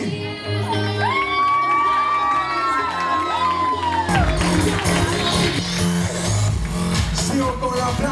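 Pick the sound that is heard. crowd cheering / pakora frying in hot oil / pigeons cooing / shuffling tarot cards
crowd cheering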